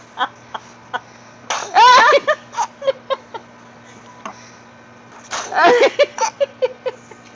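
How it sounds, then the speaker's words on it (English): A baby makes two bursts of wet, sputtery sneeze-like sounds, each followed by quieter small vocal noises and breaths. "Sneeze."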